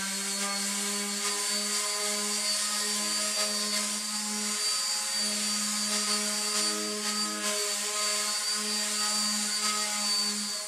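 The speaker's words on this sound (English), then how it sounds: "So now we're going to do a last round of sanding with some 220 grit" A wooden stool being sanded with 220 grit sandpaper gives a steady, unbroken whirring drone at constant loudness, close up, with no talking.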